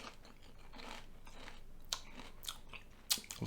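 McCoy's ridged crisps in Grilled Cheese and Flamin' Fajita flavour are chewed close up, with soft munching and a few sharp crunches toward the end.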